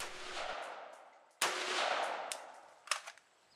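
A rifle fitted with a red dot optic fires three shots outdoors. Each report is sharp and loud and is followed by a long decaying echo.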